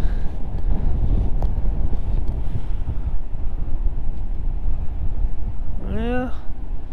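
Strong wind buffets an outdoor microphone on a field during metal detecting, a constant rough rumble throughout, with a brief rising whistle-like sweep near the end.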